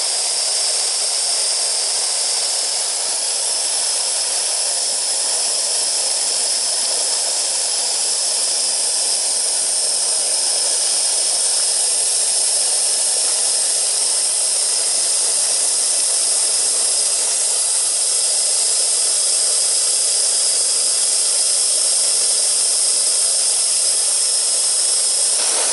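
Steam hisses loud and steady from the blower of a gauge 1 garden railway steam locomotive with its boiler at about 50 to 60 psi, giving a continuous broad rush with no break.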